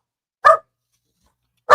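A dog gives two short, sharp barks about a second apart, loud and close, with silence between and no other sound.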